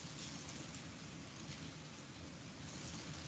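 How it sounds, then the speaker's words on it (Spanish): Steady heavy rain hisses in a dense, unbroken wash, loud and close, filling the whole span without pauses or voices. "Está lloviendo"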